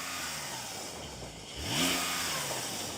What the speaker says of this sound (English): Now, the Porsche 911 Turbo S isn't known for having the most fruity exhaust